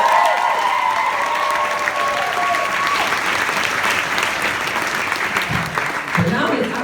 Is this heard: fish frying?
no